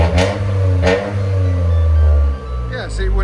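A 2023 Toyota Corolla GR Circuit Edition 3-cylinder turbo engine with a resonator delete, revving up nearby with a deep, loud, rumbling exhaust drone as people talk over it.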